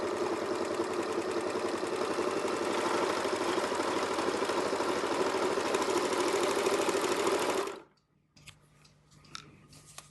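A serger sewing machine test sews a narrow three-thread hem with a loud, fast, steady mechanical whir close up that runs for several seconds, then cuts off abruptly, leaving a few soft clicks and handling noises.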